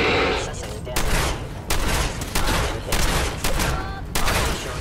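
A shotgun firing in the video game Fallout 4, heard as a series of about five or six loud, sharp blasts at irregular intervals, each with a short rumbling tail.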